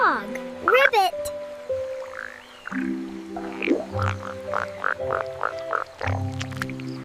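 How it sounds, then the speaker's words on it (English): A frog croaks in a run of short, regular pulses over sustained tones, with scattered chirpy sounds around it. "It's a frog. Ribbit."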